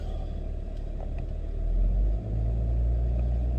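Third-generation Dodge truck diesel engine idling with freshly replaced injectors, a steady low rumble that swells slightly in the middle and holds even, close by with no talk.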